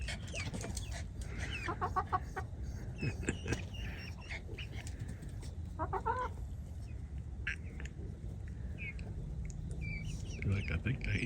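Backyard chickens clucking and fussing over a piece of bread, with scattered close clucks and soft calls over a low background and a person's voice heard now and then.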